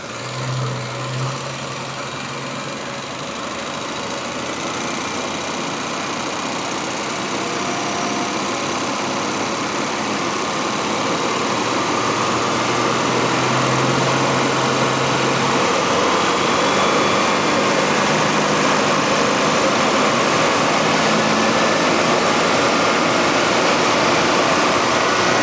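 A Triumph 2500TC engine idles steadily throughout, its droning note growing slightly louder and fuller partway through as the revs are briefly blipped. The engine is heard alone and close, with no talking.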